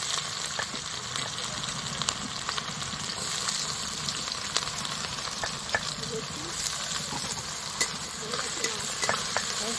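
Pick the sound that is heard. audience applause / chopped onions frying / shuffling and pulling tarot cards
chopped onions frying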